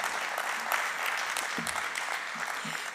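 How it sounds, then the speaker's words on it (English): Dense, steady applause from an audience at a Chamber of Commerce candidate forum, filling the whole stretch at an even level with faint voices underneath. "let's give Zach a round of applause"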